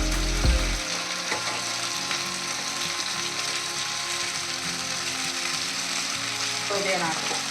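Curry leaves, tomato and coriander fry in hot oil for a chicken biryani, giving a steady, close sizzle with a brief louder clatter at the start and faint stirring scrapes.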